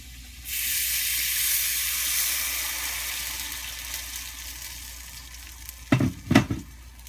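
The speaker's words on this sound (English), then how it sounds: "So I'm going to add a little water to this." Water poured into a hot pan of sweet potato and sprouts stir fry sets off a sudden loud sizzle and steamy hiss that slowly eases, followed near the end by a few stirring clatters.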